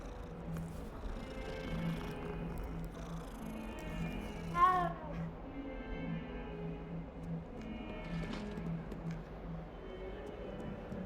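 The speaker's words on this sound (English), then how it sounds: "Pet the cat." A cat in Hogwarts Legacy gives one clear meow when petted, heard over a soft game ambience with rhythmic background tones and faint movement sounds.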